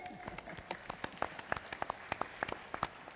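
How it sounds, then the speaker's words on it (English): Sparse, scattered hand claps from a small audience at an academic panel session on research and innovation with AI, faint and irregular, fading in and out over about three seconds. "give a big applause to our speakers"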